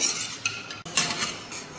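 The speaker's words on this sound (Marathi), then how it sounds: "सतत असं परतत राहायचं म्हणजे एकसारखे मसाले भाजले जातात" A utensil scrapes and clinks against a pan while stirring long-cut coconut slices and spices roasting in a little oil, a few quiet metallic strokes in quick succession with no talk.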